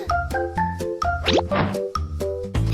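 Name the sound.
toy trumpet being blown, cartoon funny sound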